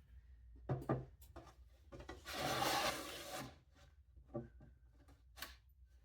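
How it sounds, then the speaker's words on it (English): A trimming tool scrapes a clay mug turning on a pottery wheel, a dry raspy rub that swells to a loud continuous scrape in the middle, with lighter intermittent scraping before and after. "Okay, and start to trim to that mark."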